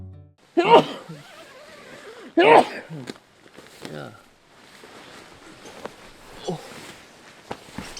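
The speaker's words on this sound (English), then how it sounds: "Sneezes." Two sharp sneezes burst out a couple of seconds apart, followed by quieter rustling and shuffling movement nearby.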